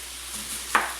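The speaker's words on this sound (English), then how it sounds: "Nice chopping." A single sharp knife chop cuts through potatoes on a board, one brief thud standing out against a quiet kitchen background.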